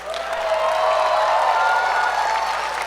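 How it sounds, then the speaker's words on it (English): A standing audience applauds performers at the close of a Shiva Parvati Vivaha dance presentation at CMLA Sevanjali, a steady, dense wash of clapping that holds evenly throughout with no voices on top. "Give them one last round of applause."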